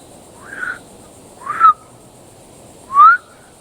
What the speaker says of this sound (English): They're whistling like crazy.